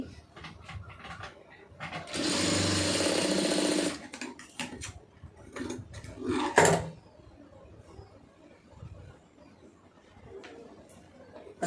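Sewing machine stitching pieces of piping together for a garment neckline, a loud continuous whirring run of about two seconds, followed by scattered handling knocks and rustles nearby.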